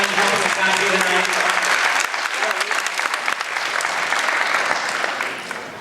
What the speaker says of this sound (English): If we could give them all a nice round of applause for coming out and helping us out here tonight.